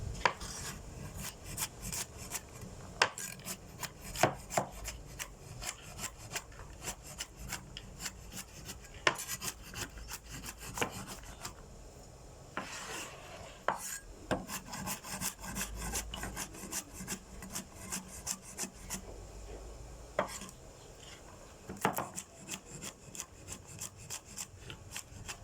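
A knife slices through plenty of garlic on a wooden board in rapid, steady strokes, a close, continuous rasping and tapping that runs throughout with occasional sharper knocks of the blade on the wood.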